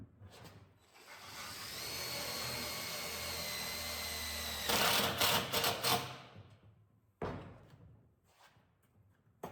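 A power driver sinks screws into the deck of an open-deck toy hauler, a steady whirring run of about four seconds followed by louder bursts and a final short spin, close by with no talking.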